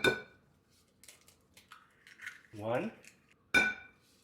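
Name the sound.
beating eggs with a fork in a bowl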